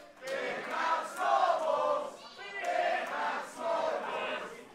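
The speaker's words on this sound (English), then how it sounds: "You can hear what the crowd's chanting." Wrestling crowd at a live pro-wrestling show chanting in loud rhythmic bursts, several rising and falling waves of massed voices with brief dips between them, no clear single speaker over the top.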